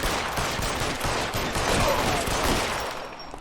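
Wild, sustained gunfire in an L.A. Noire police shootout, a dense fusillade of overlapping shots that stays loud for the full stretch.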